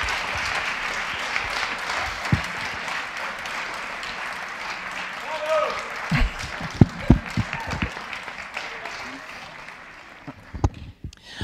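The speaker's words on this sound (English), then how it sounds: "let's give her another round of applause for sharing her remarkable story" An audience in a lecture hall applauds after a talk by a Holocaust survivor, a steady wash of clapping that fades toward the end, with a few louder claps and thumps near the close.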